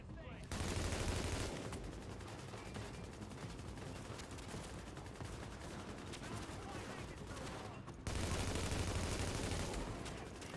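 Sustained gunfire in the video game The Division, a steady dense rattle of shots lasting the whole stretch, briefly cut near the start and again near eight seconds, fairly quiet overall with a voice talking over it.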